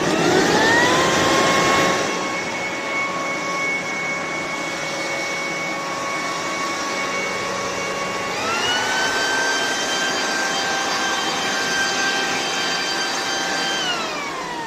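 A corded Black+Decker 3-in-1 leaf blower runs steadily at close range with a loud, whining motor roar that swells at start-up and rises in pitch partway through as it spins up further, with no talking.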